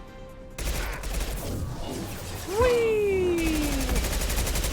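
Weapon fire in the video game Mass Effect Legendary Edition, a long-range gun heard as a sustained burst of noisy game gunfire with a rising then falling whine, loud and close, with a brief spoken exclamation over it.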